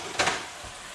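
Dishes and utensils clatter briefly during kitchen washing-up while cooking an autumn vegetable poke bowl, two quick clinks close together near the start, then quiet kitchen background.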